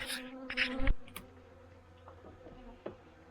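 Honey bees buzz around a beekeeper in a bee suit during a fall hive inspection, a brief loud close drone at the start, then faint scattered buzzing and small clicks.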